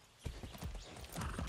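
Rhythmic clip-clop of horse hooves trotting at an even pace in the video game Far Cry 6, fairly close and clear, with no voices over it.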